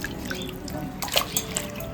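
Spinach is swished and washed in a pot of water, with gentle sloshing, trickling and a few drips, close and quiet.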